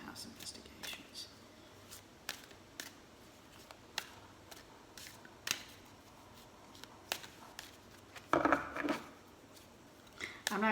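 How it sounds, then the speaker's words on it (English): Tarot cards shuffled by hand, giving quiet scattered clicks and taps and one brief, denser riffling burst near the end, close and soft against a faint room hush. "I'm not good at shuffling cards."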